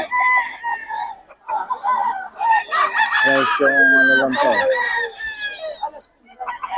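Roosters crow loudly nearby, one long call overlapping others, with clucking and a voice talking briefly in the background.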